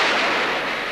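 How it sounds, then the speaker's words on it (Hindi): Dense gunfire rattles in an action-film scene, a loud continuous crackling blast that fills the moment without pause. "हेनरी ने गोलियां चलाई"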